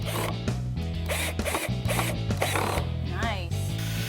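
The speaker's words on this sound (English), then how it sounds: "Drill pilot holes and fasten the bottom shelf to the legs." Drill driving screws through a bottom shelf into wooden workbench legs on a child-size workshop bench, with repeated short bursts of whirring and ratcheting, close and loud, broken by brief pauses.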